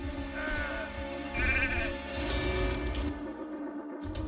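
Sheep bleating effect in a video game arena battle, a wavering, drawn-out bleat repeated a few times over busy game sound with whooshes, fading at the end.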